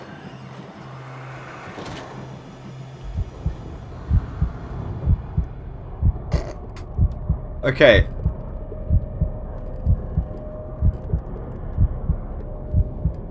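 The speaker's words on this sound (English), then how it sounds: "The capture's going mental at that heartbeat noise, by the way." A heartbeat sound effect in the Call of Cthulhu video game thumps in a steady, regular rhythm of low beats over a faint hum, with a few sharp interruptions and a player briefly speaking.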